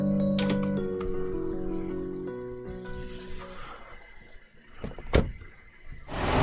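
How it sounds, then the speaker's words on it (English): A car sound in the Nekopara video game plays as a short mechanical hum and whir, followed by a few sharp clacks and a louder burst near the end, with no talk over it. "Okay, that was a car sound."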